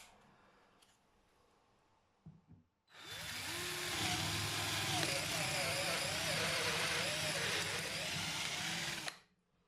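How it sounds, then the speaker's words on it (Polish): After a brief quiet, a 12V Parkside cordless drill in second gear whirs loudly for about six seconds as a 10 mm bit bores through a wooden board, its pitch wavering under load, then stops abruptly. "Teraz wiertłem fi 10 przewiercimy taką deseczkę. Damy drugi bieg."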